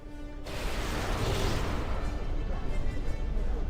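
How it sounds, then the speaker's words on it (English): Video game turrets firing at a passerby, a rapid sustained barrage of loud bursts that kicks in abruptly and keeps rattling without pause. "trying to shut down the turrets that are shooting at a random passerby"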